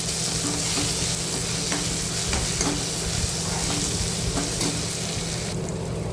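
Tomatoes sauté in a hot pan with a continuous hiss and sizzle, broken by a few soft scraping stirs, over a faint steady hum; no one speaks.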